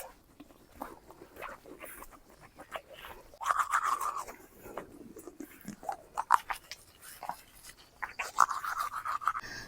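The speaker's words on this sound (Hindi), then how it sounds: "ब्रश कर लेते हैं ना।" Teeth being brushed with a toothbrush on a rainy morning in Arunachal Pradesh, the close scrubbing strokes coming in uneven bursts with louder brisk patches and quieter pauses, no talking.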